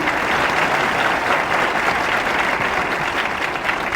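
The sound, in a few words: audience applause for the chief minister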